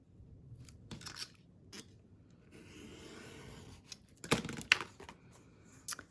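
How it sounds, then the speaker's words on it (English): Scissors cutting through cardstock to make a 4-inch journaling card: quiet rubbing followed by a few crisp snips near the end, with no talking. "Cut one at 4 inches."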